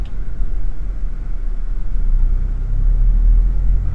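Tuned Toyota Innova engine with double blackcore, catalytic converter and additive fitted, running as a smooth, steady low rumble with no sharp peaks.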